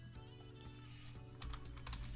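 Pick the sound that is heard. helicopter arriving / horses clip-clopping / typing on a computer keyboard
typing on a computer keyboard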